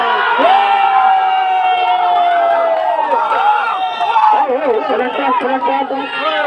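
Spectators at a football match cheer and chant loudly, a dense, continuous crowd roar with voices rising and falling in sung, drawn-out tones that swell again near the end.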